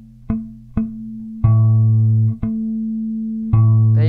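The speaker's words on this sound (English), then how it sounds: "That sounds like a good harmonic." Artificial harmonics on a bass guitar, five plucked notes that ring with a bright, bell-like sustain. Each note sounds alone and close, with no talking.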